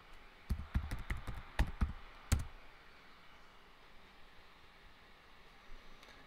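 Keys on a computer keyboard are tapped during an Oracle database install, a quick run of sharp clicks over a couple of seconds followed by quiet room hiss.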